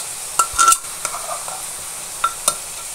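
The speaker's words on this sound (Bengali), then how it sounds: "দিয়ে ভালো করে নাড়াচাড়া করব মশলার সাথে, যাতে আলুগুলো সব মিশে যায়।" Fried potatoes are stirred into spices in a pan, giving a few sharp scrapes and clinks of a spoon against metal over a faint steady sizzle, at close range.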